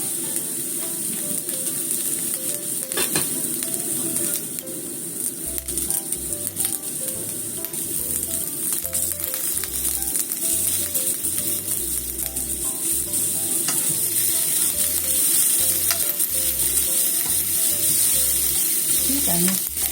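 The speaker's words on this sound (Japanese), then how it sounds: "ちょっとうっすら焦げ目がつくまでちょっと焼きますよ。" Green peppers pan-frying until lightly browned for a bonito-flake stir-fry, with a loud, steady close sizzle, intermittent spatula scrapes and tosses, and a low rhythmic thumping beneath.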